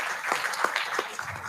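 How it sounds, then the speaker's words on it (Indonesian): Brief, fairly soft audience applause at a government meeting on slum settlements, a scattered patter of clapping lasting about a second and a half. "Mohon tepuk tangannya untuk Ibu Endra."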